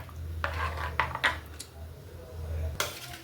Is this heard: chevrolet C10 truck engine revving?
no